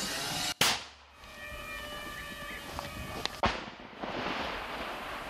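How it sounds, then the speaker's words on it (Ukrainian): A mortar fires on a battlefield with a sharp, heavy boom, followed a few seconds later by a second loud blast, each leaving a rumbling tail amid outdoor noise and a faint whine. "Міна! Постріл, постріл! Плюс постріл."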